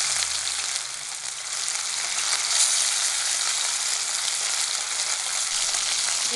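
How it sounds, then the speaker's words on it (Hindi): Fish fries lightly in hot oil in a pan for a raw mango fish curry, giving a steady, close, even sizzle throughout with no voices. "अभी ये मछली हम फ्राई करने के लिए थोड़ा सा फ्राई करेंगे ज़्यादा नहीं फ्राई करेंगे"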